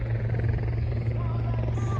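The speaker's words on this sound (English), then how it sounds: "We've got a helicopter over there." A steady low thrumming rotor drone of a helicopter over a wet race track at Bicester Heritage, continuous and fairly loud, with a hum of outdoor noise around it.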